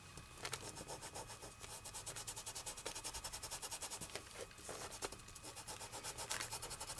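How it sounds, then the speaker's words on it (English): Glitter being rubbed and polished onto a paper butterfly cutout makes a faint, quick, rhythmic brushing and rubbing that continues steadily with small irregular scuffs. "I'm gonna rub it in, and I'm gonna polish that glitter."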